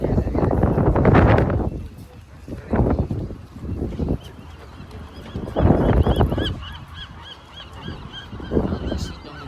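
Geese honking repeatedly in loud bursts on Alcatraz Island, some close and some farther off, with a few voices talking between the calls.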